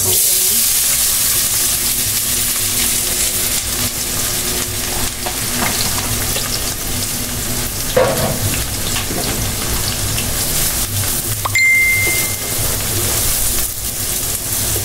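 Onion, garlic and cumin seeds sizzling steadily in hot oil in a pan for spinach cooking, a loud continuous crackling fry with occasional stirring clinks.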